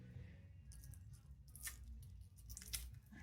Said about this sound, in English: So cut the tape here.